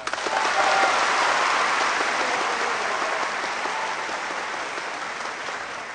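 Steady applause from a crowd, loud at first and gradually easing off over several seconds.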